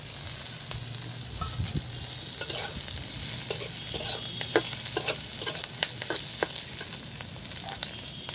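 Potatoes and egg are tipped into a hot frying pan for a moringa-leaf recipe, making a steady close sizzle broken by repeated scraping and stirring strokes of a spatula, with no voices.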